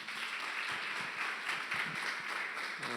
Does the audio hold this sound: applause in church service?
yes